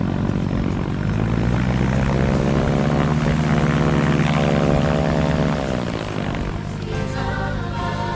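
A propeller airplane flies close overhead, its engine drone loud and steady throughout, the pitch sagging slightly as it moves away near the end.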